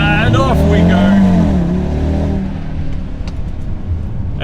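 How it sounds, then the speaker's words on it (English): A five-cylinder car launches hard from a standstill using launch control. The engine note climbs loud and close, rising in pitch through the revs, then settles into a steady roar as it pulls away. "Might not be the loudest 5-cylinder you ever heard, but you can still hear that beautiful sound"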